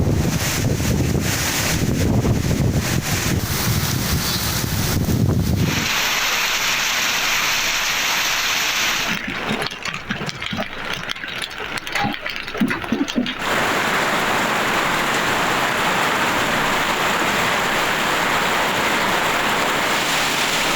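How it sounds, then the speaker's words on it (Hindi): Strong gusting wind with rain over Lahore and other Punjab cities, a loud, continuous roar buffeting the microphone, shifting in intensity with a rougher crackling stretch midway, with no voices. "लाहौर समेत पंजाब के शहरों में तेज़ हवाओं के साथ बादल बरसे।"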